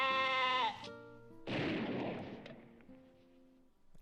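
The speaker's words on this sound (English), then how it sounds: "Why did he kill that sheep at the end of his bumper?" A sheep in the Minecraft video game gives one clear, wavering bleat, followed by a loud, noisy burst that slowly fades away.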